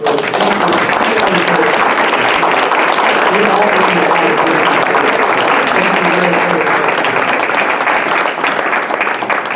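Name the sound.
audience applause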